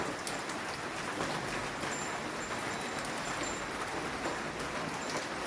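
Steady monsoon rain in a village falls as a continuous, even hiss of drops pattering on surfaces, moderately loud and unbroken, with no voices.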